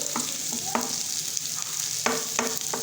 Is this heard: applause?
no